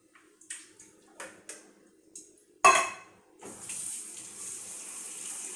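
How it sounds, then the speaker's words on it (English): Canned dark red kidney beans are handled in a kitchen with a few knocks and clinks of cans and dishes, then a tap runs steadily as the beans are rinsed under the water. "let me just rinse my beans here."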